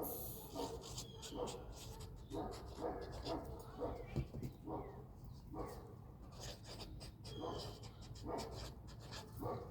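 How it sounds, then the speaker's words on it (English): A dog barks outdoors near a small container garden, the barks faint and distant and repeating over steady outdoor ambience. "the dog barking"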